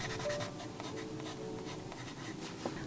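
Pencil drawing in a sketchbook, soft, close scratching and light rhythmic strokes on paper, steady and faint with no talk.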